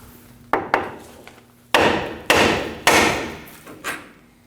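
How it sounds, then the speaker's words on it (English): Sharp metallic hammer blows on the end of a steering knuckle of a 2009-2014 Ford F-150, about six strikes at uneven intervals, each ringing briefly before fading, close and loud. "strike the end of the knuckle with a hammer"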